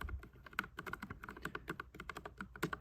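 Keys clack in a fast, steady patter as someone types on a NuPhy Air75 wireless 75% keyboard, crisp and close with no talking.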